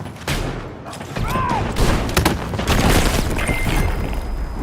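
Frag grenade blast and gunfire inside a video game battle: a dense, sustained wash of shooting and booms fills the whole stretch, with a sharp burst early on and a steady din after, loud and close throughout.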